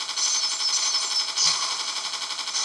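Rapid, steady gunfire from the mobile shooting game Heavy Gunner, played on a Samsung Galaxy Player 5.0, runs as a dense continuous stream of shots layered over game sound, with no voices.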